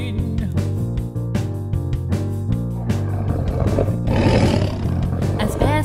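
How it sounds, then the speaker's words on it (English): A bear roars as a sound effect in a children's read-aloud story, a long, loud growling roar over ongoing music that swells toward the end. "As Bear stormed back inside the cave, he turned and roared at sheep"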